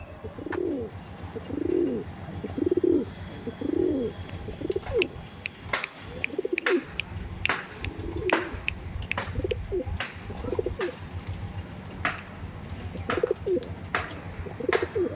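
Pigeons coo close by in a loft in repeated soft, throaty rolls, mixed with flutters, scuffs and occasional sharp taps.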